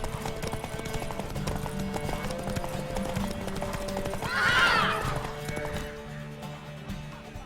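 Clip-clopping hooves and a sharp whinny from a mare in The Witcher 3, with steady trotting and the neigh peaking midway over background game sound.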